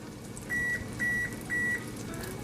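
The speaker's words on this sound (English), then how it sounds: "That's the sound of the oven being ready." Three electronic beeps, each about a quarter second long, evenly spaced in a steady rhythm over a low background hum.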